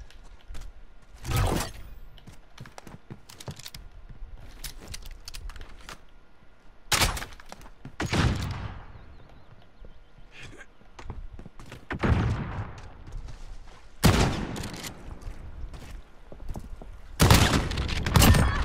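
Gunfire in Call of Duty Modern Warfare during a gunfight match, with sharp separated bursts and single shots cracking out every few seconds, loud and close, over a quieter bed of game ambience.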